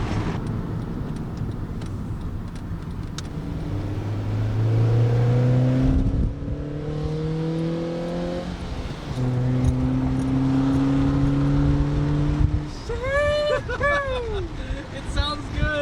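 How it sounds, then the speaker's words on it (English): Honda Fit engine with an aftermarket Injen cold air intake, heard from the open engine bay as it revs up in rising pulls with a deep, bassy intake tone, while people talk nearby. "way more bassy coming out of the engine bay"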